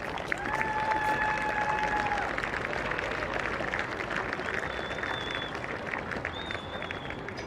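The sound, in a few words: audience applause for the two teams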